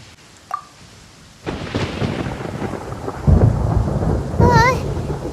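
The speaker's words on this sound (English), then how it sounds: "Paimon hears thunder!" Thunder and rain in the game Genshin Impact, set in the Sumeru region: quiet ambience gives way to a sudden rolling rumble of thunder over steady rainfall, which swells louder near the end, joined by a brief warbling tone.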